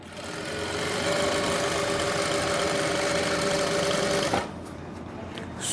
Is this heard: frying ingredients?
no